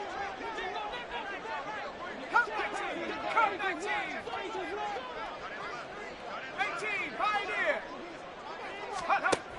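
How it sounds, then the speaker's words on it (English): Uneasy murmur of a home crowd at an American football game, a dense steady babble of many voices filling the stadium with brief louder swells. "I'm starting to detect an uneasy murmur through this crowd"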